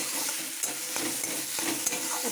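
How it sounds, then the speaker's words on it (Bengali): Garlic, green chili and black cumin paste is stirred in hot oil, with a steady sizzle and repeated scraping strokes of a spatula throughout. "এবার এটা ভালো করে নাড়াচাড়া করে লবণ দিয়ে একটু স্বাদ অনুযায়ী দেয়"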